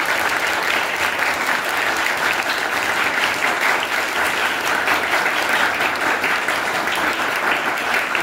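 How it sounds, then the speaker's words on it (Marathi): An audience bursting into sustained applause for a sir at a ceremony, dense steady clapping from a crowd, close and loud throughout with no pause. "पुन्हा एकदा सरांसाठी जोरदार टाळ्या व्हायलाच पाहिजे."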